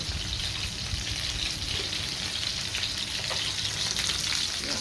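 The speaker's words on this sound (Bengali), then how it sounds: "ইলিশ মাছ ভাজা হচ্ছে" Hilsa fish fry in a pan of hot oil, giving a loud, continuous close-up sizzle and crackle with no talking.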